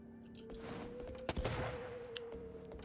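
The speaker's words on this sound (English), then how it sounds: "A dude up there just shooting at me." Enemy gunfire in the video game Wuchang: Fallen Feathers: a few sharp shots cut through a steady game backdrop, with the loudest bursts near the middle, fairly close, and no talking over them.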